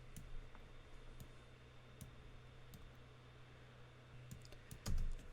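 Typing on a computer keyboard in a commercial clip being edited in Adobe Premiere Pro CC 2015: faint, sparse key clicks over a steady low hum, ending with a louder thump near the end.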